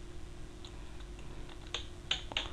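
A few faint key presses on a computer keyboard, sparse soft clicks with two sharper taps near the end over a low, steady hum.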